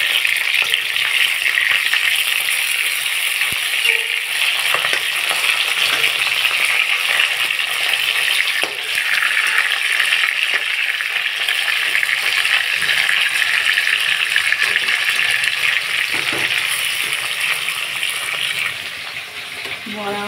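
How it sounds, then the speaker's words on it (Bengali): Small fish and lentil fritters fry in a pan of hot oil, producing a loud, continuous sizzling crackle with occasional light pops and clatter, close by and steady throughout. "বড়াগুলো ঝোল করবো তো, তাই এরকম ছোটো ছোটো করে ভেজে নিচ্ছি।"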